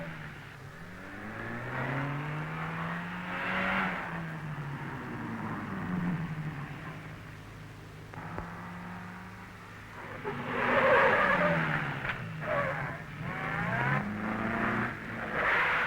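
A Standard 10 car drives a tight rally manoeuvring test around posts and pylons, its small engine revving up and easing off repeatedly, with brief bursts of acceleration close by and no talk.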